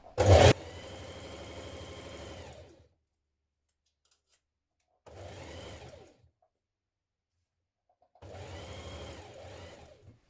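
A sewing machine stitches a waistband onto elasticated-waist trousers in three separate runs of steady whirring, each lasting one to two and a half seconds, with silent pauses between them.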